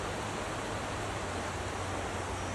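A mountain stream in a rocky valley rushes steadily, a dense close-up wash of flowing water filling the whole moment with no pauses or voices.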